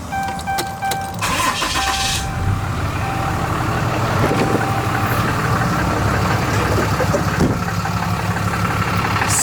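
A 2011 Dodge dually pickup's Cummins diesel engine starts and settles into a steady, quiet, low idle, close by, with no talk.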